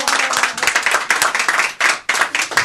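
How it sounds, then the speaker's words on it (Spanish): A small studio audience at a Chilean FM radio morning show claps for a singer, a dense, close burst of hand claps with brief dips, continuing for several seconds. "Un aplauso, chiquillas, además."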